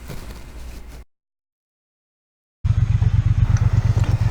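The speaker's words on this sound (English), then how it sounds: "there's bikes coming in behind me" Motorcycles arriving at a Distinguished Gentleman's Ride gathering in Norfolk, Virginia: a rumbling engine roar, then a gap of silence, then a loud, throbbing run of engine noise close by.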